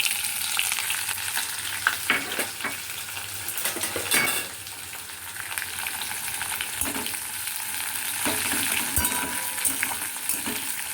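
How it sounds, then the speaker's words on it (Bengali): Okra and chopped onion fry in a pan with a continuous crackling sizzle, broken by bursts of stirring and utensil scrapes against the pan, close up and without talk. "এবার এটাকে একটু ভালো করে ভাজতে হবে দেখবেন খুব যেন পুড়ে না যায়"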